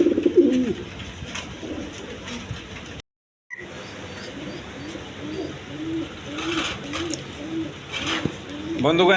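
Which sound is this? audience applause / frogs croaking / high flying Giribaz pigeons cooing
high flying Giribaz pigeons cooing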